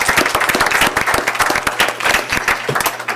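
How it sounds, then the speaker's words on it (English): Audience at a school district board meeting applauds an elementary school student leader as he comes up, with steady, dense clapping across a full room, a few louder nearby claps standing out, and no talking. "Let's give him a round of applause."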